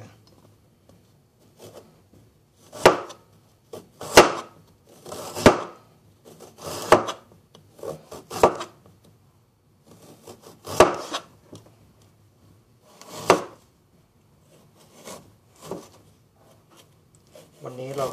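Ginger being sliced with a knife on a cutting board: about a dozen crisp, close-up chops that come in small irregular clusters, with quiet pauses between them.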